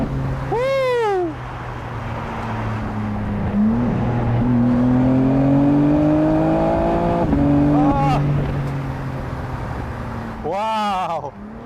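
A BMW M4 Competition convertible accelerating hard, its engine climbing through the revs with quick gear shifts, loud and close with open-top wind noise throughout.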